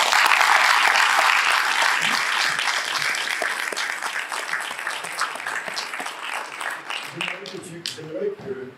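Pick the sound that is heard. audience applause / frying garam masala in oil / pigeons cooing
audience applause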